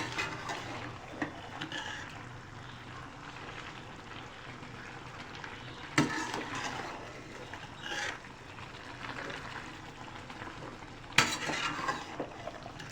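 Chicken and spinach being gently stirred together in a cooking pot with turnips, soft scraping and metal utensil contact over a low simmering sizzle, with a couple of louder clanks near the middle and end.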